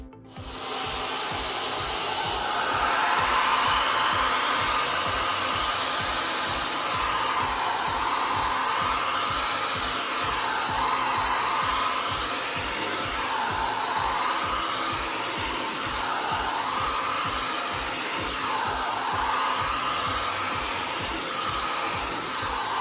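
A hair dryer blows steadily and loudly for over twenty seconds, pushing freshly poured acrylic paint in pink and black toward the center of a Dutch pour, its airflow swelling slightly as it sweeps back and forth.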